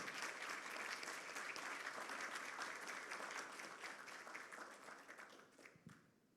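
Sustained audience applause for two women guests at the close of an academic lecture session, dense and even for several seconds before thinning and fading out.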